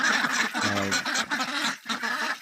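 Ducks or geese honk and quack close by, several overlapping calls in quick succession with a short pause near the end.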